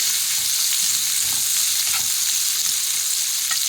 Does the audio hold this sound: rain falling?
no